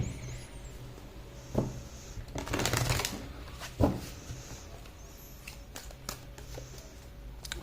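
Tarot-style cards are shuffled and drawn for a reading, with soft riffles, a longer flurry of shuffling in the middle, then scattered light slaps and flicks as cards are laid down, close up and unvoiced.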